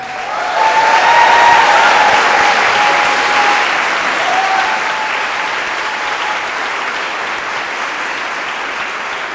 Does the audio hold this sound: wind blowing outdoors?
no